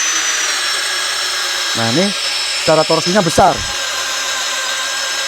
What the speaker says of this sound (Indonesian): ini sekarang coba speed 1 mode drilling